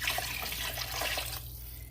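Two cups of water pour from a pitcher into a cooking pot, a steady close splashing stream that stops abruptly near the end over a low hum.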